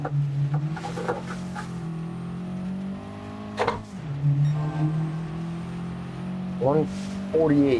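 A small 1.4-litre turbocharged four-cylinder car engine revs in Gran Turismo 7, its steady drone rising and falling with a couple of sharp throttle blips. Someone talks over it.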